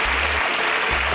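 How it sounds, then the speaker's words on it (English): Dense crowd applause, steady clapping from many people filling the whole moment, with a low thump underneath. "Can we give a round of applause to his superstars?"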